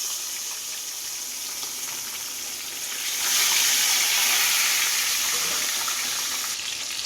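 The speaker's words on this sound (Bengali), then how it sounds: "পাবদা মাছগুলোকে এক এক করে ভেজে নিতে হবে ভালো করে" Pabda fish fry in hot oil in a pan, giving a steady, close, loud sizzling hiss that swells midway and continues without talk.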